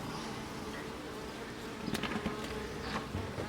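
Honey bees buzz steadily and loudly at close range while a beekeeper works frames in a nuc hive box, with a dense, continuous hum and brief sharper clicks and knocks toward the end.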